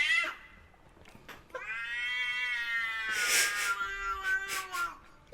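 A cat meows repeatedly, drawn-out harmonic cries rising into a caterwaul, close and fairly loud, with a short break between calls and some brief bursts of noise near the end.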